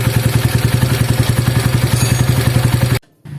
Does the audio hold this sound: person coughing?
no